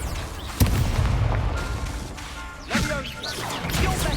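Fiery Confringo spell blasts in the Hogwarts Legacy video game land as two sharp, booming impacts about two seconds apart, set against continuous combat noise.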